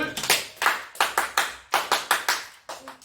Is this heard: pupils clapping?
yes